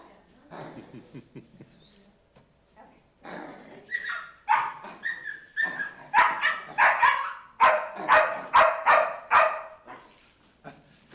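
A police puppy at a city council meeting lets out a run of high, yelping barks and whimpers, growing louder and more rapid in a burst of repeated cries, with faint room voices early on.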